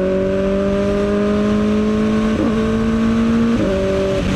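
A motorcycle with a quick shifter accelerates hard with the throttle held wide open, its loud steady engine whine climbing in pitch, then dropping abruptly at two quick upshifts before rising again, heard close and continuous.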